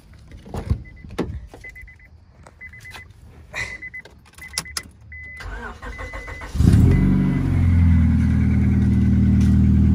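A Toyota 4Runner engine starts up after a power steering return line repair, following a run of clicks, clunks and a power window whirring, then settles into a loud, steady idle.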